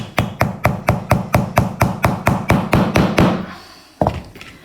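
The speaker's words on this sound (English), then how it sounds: "hammer that in place" Rapid, even hammer taps strike a tack into wood, about fifteen quick blows in a row, then a pause and one final knock.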